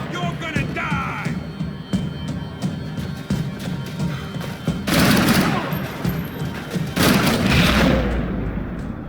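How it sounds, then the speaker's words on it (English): Gunfire over Hoboken in the video game Max Payne 3: scattered shots and clatter give way to two loud, heavy bursts of rapid fire midway and near the end, with faint voices underneath. "Gunfire over Hoboken."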